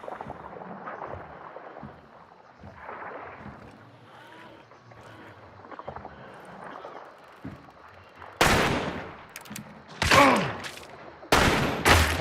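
Gunfire in Hunt: Showdown, quiet ambient rumble and faint noises followed by several loud, sharp shot bursts near the end.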